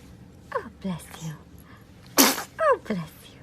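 A baby gives a single sharp sneeze near the middle, close and clear, with soft breathy baby vocal sounds before and after and a quiet hum of room noise.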